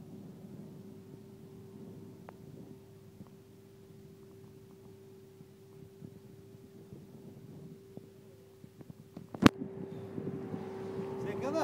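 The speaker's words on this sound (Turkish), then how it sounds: "Murat teknesi geçiyor hızlı bir şekilde" A motorboat speeds past on open water, its steady engine drone holding under wind buffeting on the microphone, with loud knocks and rising rough noise as it draws near.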